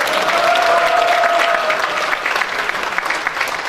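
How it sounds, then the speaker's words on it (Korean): Audience at a Korean political event claps steadily, a dense, loud wash of applause from a crowd close by. "박수 한번 쳐주기 바랍니다"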